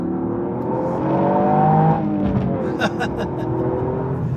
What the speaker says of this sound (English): it almost sounds a bit like an Audi 5 cylinder when it's really raving